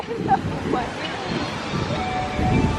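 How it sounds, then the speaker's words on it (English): Wind buffeting a microphone outdoors at EPCOT in Walt Disney World, a steady rumbling roar over faint crowd babble and a few indistinct voices. "Ah, wind!"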